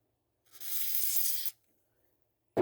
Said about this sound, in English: something that I like to do is to come in with some dielectric grease spray